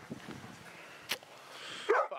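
A dog gives a few short, moderately loud barks and yips close by, with a brief sharp noise in the middle and a louder burst at the end.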